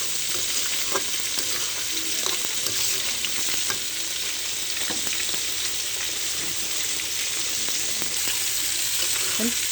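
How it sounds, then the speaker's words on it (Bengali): Potatoes sautéed with spices in a hot pan for a grass carp curry: a loud, continuous sizzle from the oil, with frequent scraping clicks of the stirring spoon throughout. "আলু আমার কষানো হয়ে গেছে"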